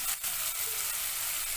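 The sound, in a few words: tomatoes added to a pan and frying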